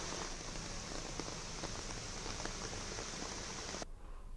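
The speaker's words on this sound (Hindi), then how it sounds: "बारिश ने दिल्ली को तालाब बना दिया है।" Heavy monsoon rain pours steadily over flooded Delhi streets, a dense, even hiss of drops on wet surfaces with scattered patters, cutting off abruptly just before the end; no one speaks.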